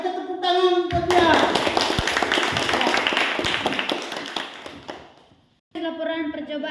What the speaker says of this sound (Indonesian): mari kita tepuk tangan buat dia